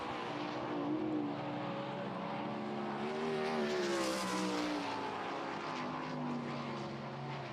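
A winged sprint car races a qualifying lap at a dirt track, its engine a steady loud drone with rising and falling pitch as it passes through the turns, heard throughout with no talking.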